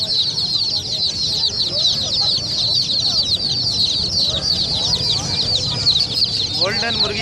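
Golden hen chicks clucking and peeping in a crowded Karachi bird market, many birds chirping continuously at high pitch over market chatter and voices.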